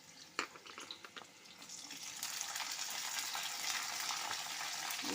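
Carrots and cauliflower hiss and crackle in a hot frying pan, a few sharp taps early, then a steady, fairly faint sizzle building toward the end.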